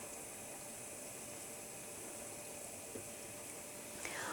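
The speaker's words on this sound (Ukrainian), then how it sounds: "І обжарюю пончики до золотавої скоринки." Cheese doughnut balls frying in hot oil, a soft, continuous bubbling sizzle, faint and steady throughout with no voices.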